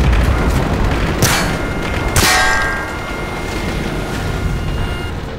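Two sharp, loud gunshot cracks ring out about a second apart, each trailing into a metallic echo, over a constant noisy game background.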